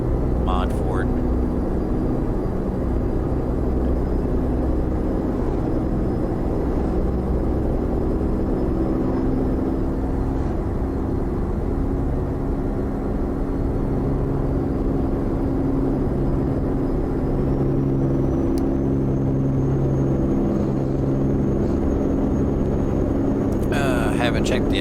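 Engine of a John Ruda 389 truck pulling a reefer trailer in American Truck Simulator, a steady low rumbling drone with a faint high whine, continuous and fairly loud throughout.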